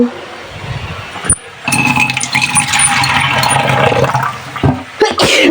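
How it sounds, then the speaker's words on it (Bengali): Water is poured into a hot pan of sautéing vegetables, giving a loud close sizzle and splash that runs for about three seconds between brief clinks of utensils. "একটু পানি দিয়ে দিব"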